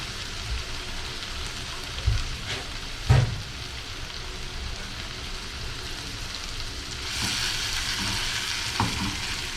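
Onions sizzling in garlic butter in a pan, a steady close crackle with a few sharper pops and stirring clatters, rising slightly toward the end.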